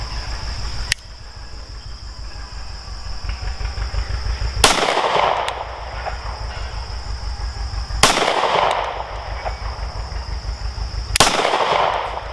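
Three sharp pistol shots from a Staccato C DUO firing Federal 147-grain rounds ring out several seconds apart, loud and close, over steady outdoor background noise and insect chirping.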